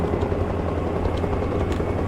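A helicopter hovers in the military video game Arma Reforger on auto hover. Its rotor gives a steady, loud, low-pitched drone with constant chop and no talk over it.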